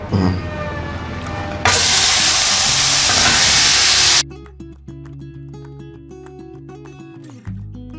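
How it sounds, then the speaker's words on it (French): Prawns (gambas) dropped into a hot frying pan set off a loud, broad sizzle that holds steady for a few seconds, then gives way to quieter kitchen sounds with a musical backing. "je crois que ma poêle est chaude. Il est temps de mettre mes gambas à poêle"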